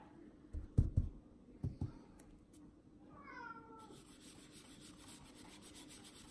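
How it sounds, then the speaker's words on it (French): A house cat meows in a short rising-and-falling call indoors, preceded by a few soft knocks and rubbing sounds, with a faint steady hiss in the background. "c'est mon chat qui miaule"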